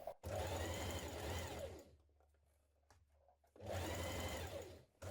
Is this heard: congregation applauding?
no